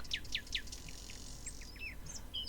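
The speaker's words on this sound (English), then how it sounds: "It was blissful silence except the early birds chirping." Early-morning birds chirping, a run of quick high tweets followed by scattered thinner calls, faint over an otherwise quiet background.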